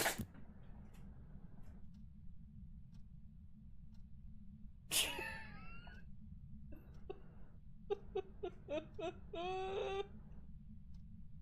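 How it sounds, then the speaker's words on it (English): A dog sneezes close by, one sharp burst followed a few seconds later by a cluster of quick snorting sneezes, over a steady low room hum with faint clicks in between. "The dog sneezed in my face."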